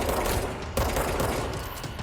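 Dense, continuous enemy gunfire in the video game Control, a loud sustained barrage with a sharp crack partway through and no talk.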